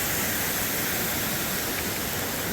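A waterfall rushes beside a rocky mountain trail on the descent from Mount Moosilauke. The roar is close and constant, a dense wash of noise with no talk.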